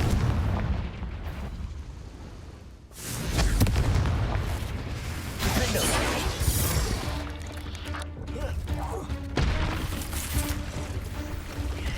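Repeated Confringo fire-blast spells in the video game Hogwarts Legacy go off as booming explosions with rumbling, crackling tails, several heavy bursts spread through a busy stretch of combat sound.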